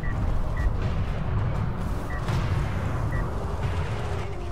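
Mortar fire during a 2v2 StarCraft league match: dull booming thuds within a dense, continuous wash of battle noise, with a few short high beeps sounding now and then.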